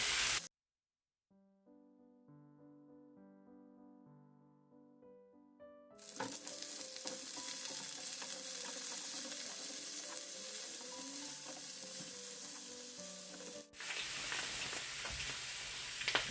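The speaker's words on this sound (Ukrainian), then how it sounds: "Картопля поки смажиться, ми нарізаємо цибульку" Following a soft musical opening, potatoes fry in a pan with a loud, steady sizzle that crackles on without pause.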